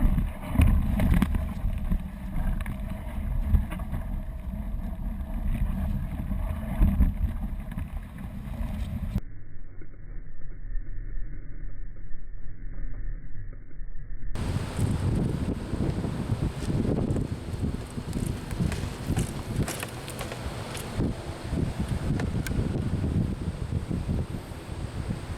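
Wind blows steadily against the sail of a homemade wind-powered rail cart on an abandoned railroad, a broad rushing roar buffeting the microphone, briefly muffled partway through, with no talk.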